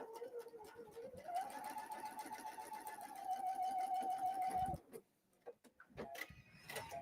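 A sewing machine stitches a separating zipper with a steady whirring hum that runs for several seconds and then stops, followed by a few faint clicks and handling noises.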